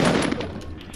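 Gunfire in a prison-themed video game, a quick burst of close, loud shots that fades within a second.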